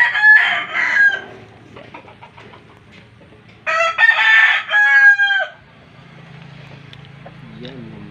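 Roosters in a rural yard in Mindanao crow loudly and close, two long calls with clucking between them, followed by a quieter stretch with low background sounds.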